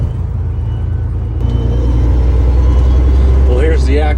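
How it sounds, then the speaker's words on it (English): Car cruising in fifth gear, coasting along a road: a steady low engine and road rumble runs throughout, fairly loud, with a voice talking over it near the end. "I'm just kind of hanging out in 5th gear right now, coasting along"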